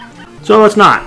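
In a Mario Maker video game, a cartoonish dog gives two quick yipping barks in succession, loud and close, right after a short spoken phrase.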